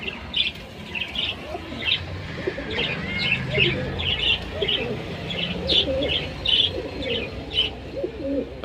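Pigeons coo and chirp in a noisy, crowded chorus, with soft burbling calls overlapping continuously at close range.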